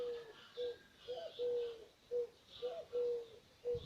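Wild pigeons coo in a village setting, giving soft, repeated hoots in a steady rhythm. The calls are faint and a little distant, with quiet background noise between them.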